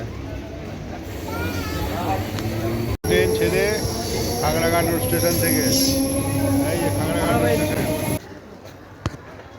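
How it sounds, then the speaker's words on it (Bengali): A MEMU train pulls out of Khagraghat Road station with a rising rumble, squealing wheels and a high hiss, loud and close, with a voice speaking over it before it quiets. "এই ট্রেন ছেড়ে দিল চলে যাচ্ছে"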